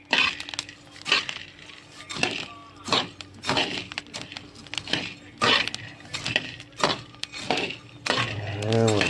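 Green Lombok coffee beans being stirred as they roast over a now-extinguished flame, giving repeated rhythmic scraping and rattling strokes, close and moderately loud, with brief bits of talk.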